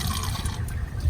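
Spring water from Wheeler Spring in Manitou Springs, Colorado pours in a steady, close splashing stream, rushing and trickling throughout.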